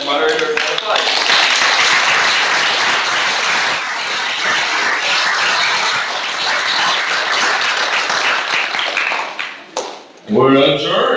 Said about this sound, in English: Let's give our panel and moderator a applause.